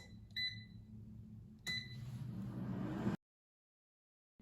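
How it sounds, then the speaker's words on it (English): An air fryer cooking egg toast hums at low level, broken by two short electronic beeps near the start and another beep burst as it finishes, then it cuts to silence before a faint noise returns at the very end. "Now the air fryer is done cooking, so let's take a look."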